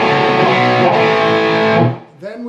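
Distorted electric guitar plays part of a riff, thick sustained chords ringing loud and close before cutting off, followed by a brief voice.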